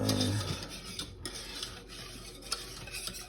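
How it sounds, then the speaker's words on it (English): A whisk scrapes and stirs a sugar mixture in a pot, soft rhythmic scratching and faint metal ticks, quiet and close with no talking. "whisk, whisk, whisk till you're sick and tired of whisking"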